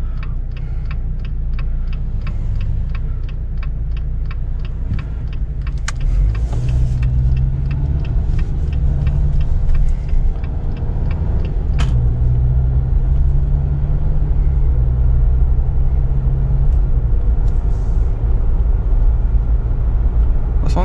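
A new Jeep Wrangler with a turbocharged four-cylinder cruises gently on a road, a steady low engine and road rumble under a quick ticking like a turn signal, with a couple of sharp knocks.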